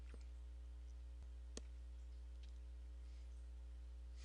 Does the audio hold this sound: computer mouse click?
yes